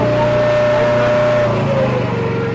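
A Honda engine on a firewood processing machine at a firewood expo runs at a steady high rev, a loud, close, continuous droning hum with a slight drop in pitch toward the end.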